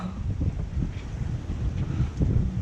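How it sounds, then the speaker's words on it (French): Steady gusting wind of twenty-odd knots roars over a sailboat heading out of Calvi under the genoa alone on a choppy sea, a continuous close buffeting rumble with no talk. "Hein, il y a un bon petit vent."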